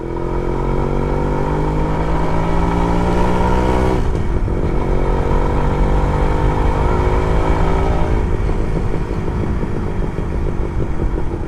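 A Suzuki Max 100R two-stroke motorcycle engine revs while riding, loud and close, with pitch climbing through gears, a brief dip near four seconds and another near eight, running continuously.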